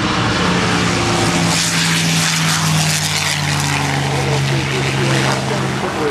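A WWII-era propeller warbird, a T-51 built in 1945, passes at a beach air show, its piston engine a loud throaty drone rising and falling while an announcer talks over it.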